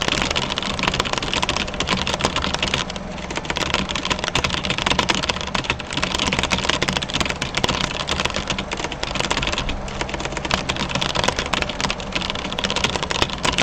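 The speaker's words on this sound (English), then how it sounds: "typing strings of random words bores me" A computer keyboard clatters with fast, dense keystrokes, a loud continuous stream of typing close up with no voices.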